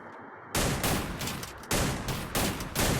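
Bursts of game gunfire from the Free Fire shooter, loud and dense, arriving in three rapid volleys separated by brief dips, following a quiet half-second start.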